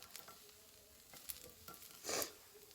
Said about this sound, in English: I got it hot enough because you can hear the sizzle.